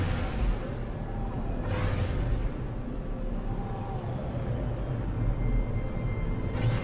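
A starship in No Man's Sky cruises steadily through the air, a constant loud roaring rumble with a couple of brief whooshing swells passing by.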